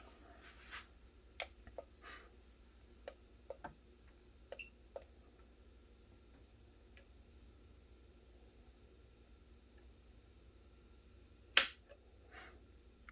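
Faint, sparse mechanical clicks from dry-firing a Glock 44 .22 pistol during trigger pull tests, scattered irregularly over near silence, with one sharper, louder snap near the end.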